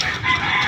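A brief burst of a hen clucking, a brooding hen ready for breeding, close and fairly loud for under a second.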